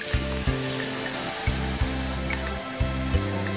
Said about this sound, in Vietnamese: Ai đâu biết người ta ngồi chiên âm thầm lặng lẽ.